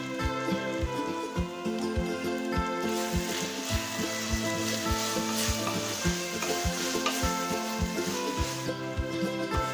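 Tomatoes with salt sauté in a pan for samba rava kichadi, a steady loud sizzle broken by repeated scraping stirs in a regular rhythm, close up with no voices.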